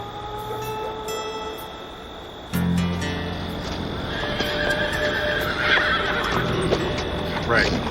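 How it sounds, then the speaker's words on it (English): Wild horses neigh and whinny with hooves clip-clopping over a rough outdoor background, the calls rising loudly in the second half, mixed with voices talking. "Those are wild horses."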